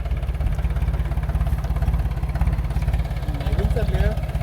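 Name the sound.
tractor engine running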